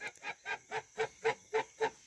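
Farmyard geese honk in a steady run of about nine evenly spaced, loud nasal calls, close by and with no voices over them.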